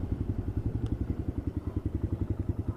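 Honda Grom motorcycle with a badly rusted chain, its small engine thumping in a quick even pulse close by, steady and moderately loud.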